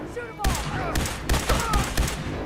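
Bursts of gunfire from the video game Fallout 4 crack out in a rapid, uneven series across the clip. Background game voices run beneath the shots.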